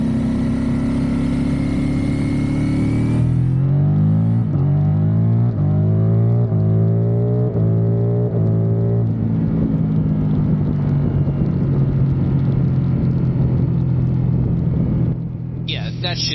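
Ducati Streetfighter V4S motorcycle accelerating hard, its engine note climbing through several rising sweeps with gear changes before settling into a steady rumble, loud and close under wind noise.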